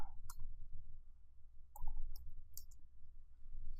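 Keystrokes on a computer keyboard as a command is typed at a terminal, a few sharp separate clicks spread unevenly over several seconds against a low steady background hum.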